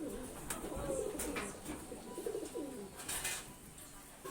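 Desi Giribaz high flying pigeons coo in a series of soft, low, throaty calls, close by against a steady noisy background, with no talking.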